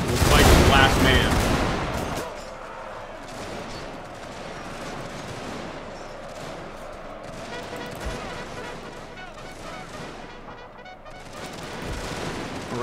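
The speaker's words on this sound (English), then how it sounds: "Shoot them, boys. Shoot them down." Rifle volleys fired at Boxer rebels in a Total War battle: a loud burst of massed gunfire at the start, then a continuing rattle of distant scattered shots and booms.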